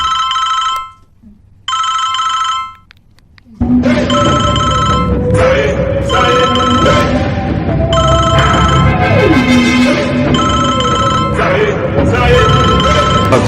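Telephone ringing unanswered in a film scene, a repeated electronic ring in regular bursts that carries on under loud background music and dialogue.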